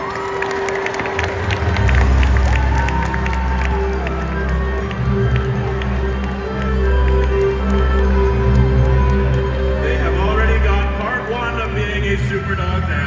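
A large crowd cheers and claps continuously, a loud sustained roar with scattered shouts rising and falling throughout.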